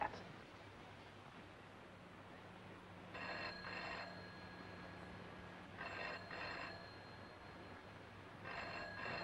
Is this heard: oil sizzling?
no